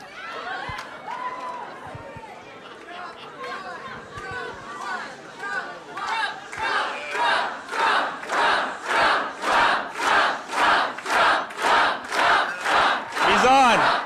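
A packed crowd inside a church in Ohio starts as a scattered murmur, then swells into loud rhythmic cheering and chanting in regular pulsing bursts that grow stronger toward the end.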